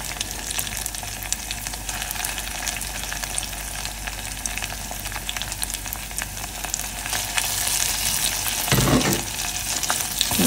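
Onions sizzle in a frying pan for Gilani torsh kebab, a steady crackling fry with light stirring scrapes, swelling louder near the end as the mixture is turned.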